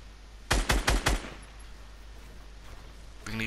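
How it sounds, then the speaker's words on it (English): Fortnite battle royale gunfire aimed at a structure: a quick burst of four loud, rapid shots about half a second in, then quiet game ambience before another sound swells at the end, with no talk. "We can easily just shoot that down."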